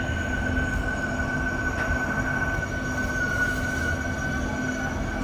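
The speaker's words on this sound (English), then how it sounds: "Brakes seem a bit squeaky, don't they?" An Alstom-built REM light metro train runs between Central Station and Brossard, a steady loud rolling rumble inside the car with a thin, sustained brake squeal whining throughout.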